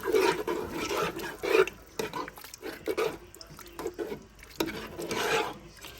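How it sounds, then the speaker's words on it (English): Crushed fire-roasted tomatoes are stirred in a pot with wet, sloshing scrapes in uneven strokes, close and moderately loud, with no one talking. "Oh, I got to give that a really good stir"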